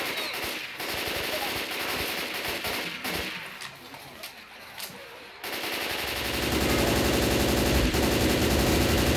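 Rapid automatic gunfire and shotgun blasts from the Left 4 Dead 2 video game rattle loudly and continuously, dipping briefly midway before surging into dense, heavy firing.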